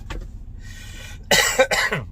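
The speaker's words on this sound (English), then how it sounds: "Well, I got a cough." Two quick, harsh coughs close to the mic, one right after the other, following a brief quiet stretch.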